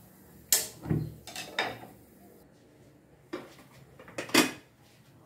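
A pot of boiled bananas lifted off a stove, with several sharp metallic clanks and scrapes of cookware in a kitchen, spaced irregularly between quiet gaps, close and fairly loud.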